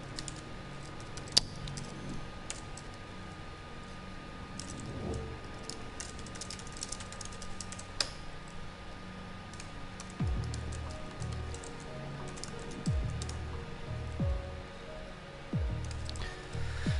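Quiet, close tapping on a laptop keyboard as the input layout is changed, with irregular clusters of keystrokes and a few sharper clicks over faint room noise.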